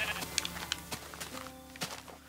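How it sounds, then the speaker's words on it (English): Sheep in the video game Minecraft bleating while a wolf attacks them, several short bleats heard close and fairly loud over background game music. "Oh, that wolf is attacking the sheep."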